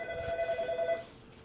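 A telephone gives one brief ring lasting about a second, then fades away quickly.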